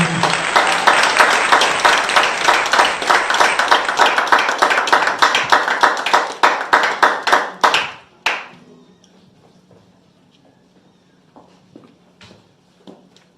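A church congregation applauding warmly, loud rhythmic clapping that fills the room for about eight seconds, then stops abruptly, leaving scattered faint taps and a quiet hum.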